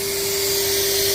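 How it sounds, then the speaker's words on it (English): A Henry wet and dry vacuum cleaner runs loudly and steadily up close, a continuous airy roar with a sharp whining motor tone and no breaks or talking. "Jibi loves this Hoover, guys"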